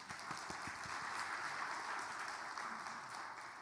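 A church congregation at a Presbyterian service in Daejeon claps together in a brief, dense burst of applause that holds steady from start to finish.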